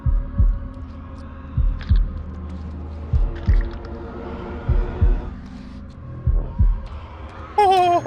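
Rhythmic thumping heartbeat from the horror game House of Ashes, loud low double beats repeating steadily over a droning hum, ending in a rising tonal sting.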